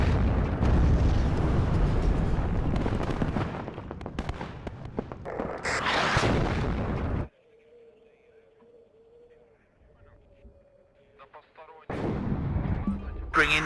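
Heavy artillery fire in the Cold War strategy game WARNO: a dense barrage of loud booming shots and blasts, then a quieter lull with a faint tone, and more explosions returning at the end.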